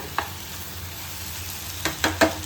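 Chicken sizzles quietly in a pan while a utensil scrapes and stirs it a few times, with sharper clicks near the end.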